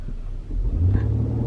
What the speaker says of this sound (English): So you're gonna have to put the car in reverse and put your foot on the accelerator.